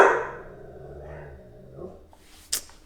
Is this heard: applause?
no